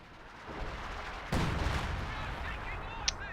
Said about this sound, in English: I can hear fighting happening elsewhere